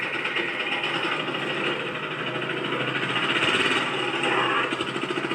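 An auto rickshaw engine runs close by with a loud, rapid rhythmic chugging that pulses steadily throughout.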